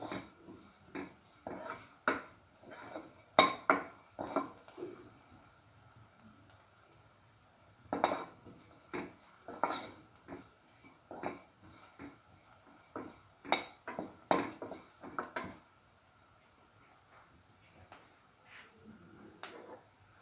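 Ingredients, with watermelon pieces to follow, are mixed with salt in a bowl. Scattered clinks and scrapes of a utensil against the bowl come in uneven clusters with quiet gaps, all fairly close.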